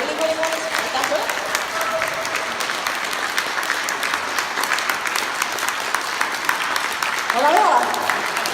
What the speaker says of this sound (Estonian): nüüd suur aplaus Olavega!